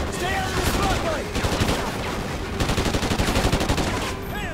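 Sustained gunfire in the video game Call of Duty Ghosts, with dense bursts of rapid automatic shots close by in two long volleys and scattered pops between them, layered over other battle noise.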